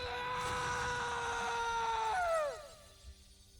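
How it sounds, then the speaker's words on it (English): A character in the video game Metaphor: ReFantazio lets out a loud, sustained anguished scream that holds steady, then drops off sharply into a faint tail near the end. "Okay, and then gotta have that scream."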